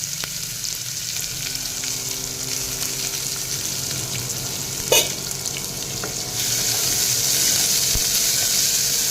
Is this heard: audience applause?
no